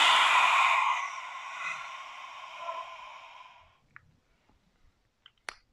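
A slow, deep breath drawn in during a face yoga exercise, a long airy inhale lasting several seconds before fading, followed by a few faint clicks in near silence.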